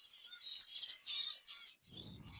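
Society finches chirping in rapid, high twittering bursts close by, fairly quiet, ending with a short soft rustle.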